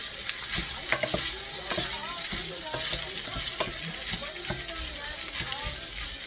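Meat with peppers and onion sautéing in a pan, a continuous close sizzle with frequent scraping stir strokes and clinks, while a person talks over it at times.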